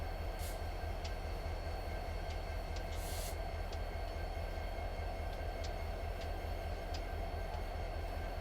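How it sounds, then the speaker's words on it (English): A train rumbles past in the Sherman Hill rail simulation, a steady low, dense roar with faint metallic clicks and brief hissy bursts on top, constant and fairly close throughout. "So this train we're going by right now is not our train"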